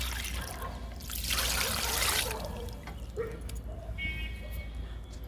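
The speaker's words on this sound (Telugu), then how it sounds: "కరివేపాకు మొక్కకి ఇస్తున్నా లిక్విడ్." Liquid NPK fertilizer poured onto a potted curry leaf plant, a steady close trickle that swells into a heavier splashing pour and then eases, with a voice speaking over it.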